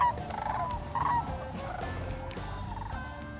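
Sandhill cranes call while flying in over trees during a hunt, a continuous chorus of rolling, overlapping calls at moderate distance with no talking.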